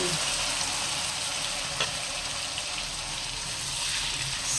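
Pork and eggplant stir fry sizzles loudly in a hot pan just after soy sauce goes in, a steady crackling hiss with a brief clatter of stirring.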